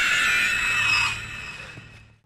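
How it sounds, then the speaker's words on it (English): A woman lets out a long, piercing banshee-like scream used as a movie monster sound, loud and shrill at first, then slowly fading away over about two seconds. "wanna hear my wife scream like a frickin' banshee?"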